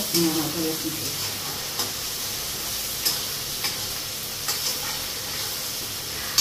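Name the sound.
ginger garlic paste sizzling in the pan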